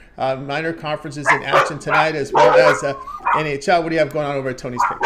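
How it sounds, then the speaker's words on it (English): Dogs bark and yip in the background during a sports picks show, the barking mixed under continuous close talk. "Sorry about the dogs. They've been crazy today."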